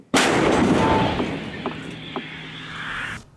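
A single heavy artillery boom bursts out suddenly and loudly, then rumbles and rolls on for a few seconds before cutting off.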